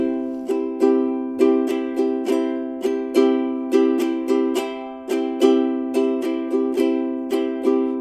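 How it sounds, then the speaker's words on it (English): A ukulele strums a lilting, syncopated island rhythm, chords ringing clearly and repeating in a steady loop, close and unaccompanied. "So the island strum sounds like this."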